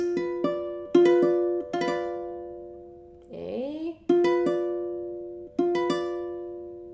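Diminished chords played on a keyboard in an ear-training exercise: notes rolled upward and then struck together, repeated several times with ringing sustain, and a brief voice cutting in partway through.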